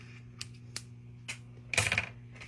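Regular Scotch tape being cut off a roll during card making, a few small sharp clicks and taps followed by a brief crisp tearing snip, close and quiet over a faint steady hum.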